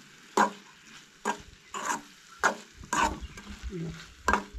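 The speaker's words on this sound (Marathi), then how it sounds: "सोय जी आसा ती बरी मिक्स करून घ्या म्हणजे आनीक बरें लागतलें." A grated coconut and jaggery filling for Goan patole is stirred in a pan, making about six distinct scraping strokes in an uneven rhythm, each close and crisp over a soft sizzle.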